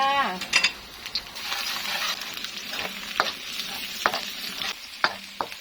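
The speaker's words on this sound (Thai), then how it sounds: "เราก็จะทำการเจียวกระเทียมก่อนนะคะ" Garlic fries in nearly hot oil while being stirred constantly for a napa cabbage and minced pork clear soup, giving a steady sizzle broken by scrapes and clinks of a utensil against the pan, with someone speaking briefly.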